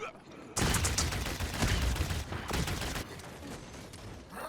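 Rapid gunfire crackles through a competitive Xbox console match, erupting abruptly after a quiet start into sustained volleys of overlapping shots, with a commentator's voice faintly underneath.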